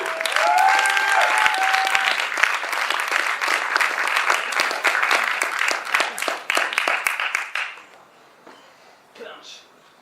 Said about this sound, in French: c'est au tour de chaque attaque qu'on peut applaudir pour encourager.